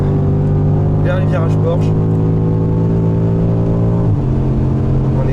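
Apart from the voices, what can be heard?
classic race car accelerating at full throttle, Le Mans Classic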